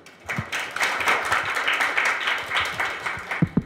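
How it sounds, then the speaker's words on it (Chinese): A conference audience at the 2017 Taiwan Internet Governance Forum applauds to welcome a speaker: dense, steady clapping from many hands, moderately distant, with a few sharper close claps near the end. "来，掌声鼓励，欢迎 Tenz。"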